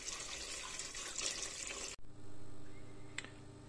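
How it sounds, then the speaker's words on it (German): Tap water pours into a cooking pot holding pork trotter for a Ukrainian aspic, a steady faint splashing stream that cuts off abruptly halfway through and leaves low kitchen hum with a small clink. "Ich werde hier jetzt Wasser dazugeben, dass er wirklich bedeckt ist."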